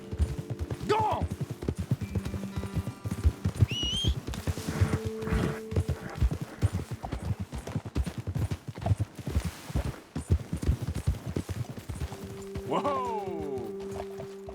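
Horse hooves clip-clopping in a video game as riders travel uphill toward a roadside ledge, steady rhythmic beats with a whinny near the start and under intermittent talk and game music.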